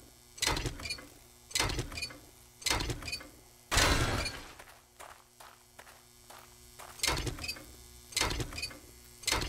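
Wrenching salvage apart for steel in 7 Days to Die: repeated rhythmic bursts of harsh metallic grinding and clanking, roughly a second apart, with one longer, louder rasping stretch in the middle.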